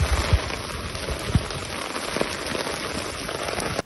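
Heavy rain pours down outdoors during a training session, a dense, steady hiss of falling water with scattered close drips and splashes standing out, and no voices.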